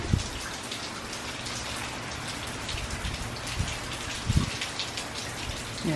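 Rain falling steadily on surfaces in Kissimmee, Florida as Hurricane Irma approaches, a dense continuous patter with a few louder close drops and no voices.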